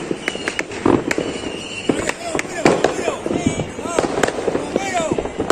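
Fireworks bursting on Christmas night in Florida, Uruguay: repeated sharp bangs and crackles at varied distances, some close and loud, mixed with voices talking and shouting throughout.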